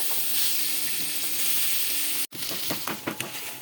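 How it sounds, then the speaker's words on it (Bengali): Spice-coated snakehead fish frying in hot oil gives off a loud, close, steady sizzle that cuts out for an instant, then returns with sharper crackles and pops. "মাছটাকে সুন্দর করে ভাজলাম"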